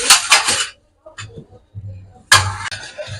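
A metal karahi is set down on the stove for cooking payesh, giving two quick clattering clanks up close. After a pause comes a sharper metallic knock, with quiet speech in the gaps.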